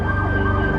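An ambulance siren wails loudly and steadily, close by, leaving the scene of a building collapse where rescue crews searched for trapped workers; no voices are heard.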